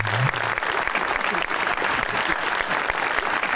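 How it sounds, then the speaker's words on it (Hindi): Studio audience on a Pakistani comedy game show bursts into loud, sustained clapping that carries steadily throughout, with no voices standing out. "इनके लिए तालियां"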